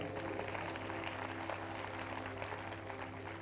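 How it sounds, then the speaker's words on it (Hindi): A church congregation claps for the Lord during a sermon, steady, moderately distant applause over a constant low electrical hum, sustained evenly for several seconds with no speech. "क्यों ना प्रभु के लिए ताली बजाएं"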